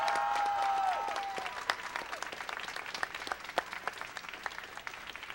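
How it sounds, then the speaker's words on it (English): Applause from an esports grand finals audience, starting as a thick wash of clapping and thinning into scattered claps, heard fairly faint from a distance. "Let's get a round of applause for that fantastic finale from both our heroes."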